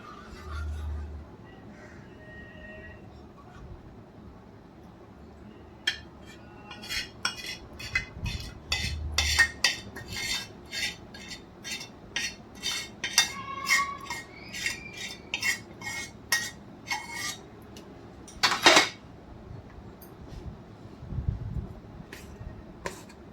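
A metal spoon stirs hot jaggery syrup in a pan while making churma laddoo with dry fruits. It gives a close, quiet run of repeated clinks and scrapes against the pan over a low background hum.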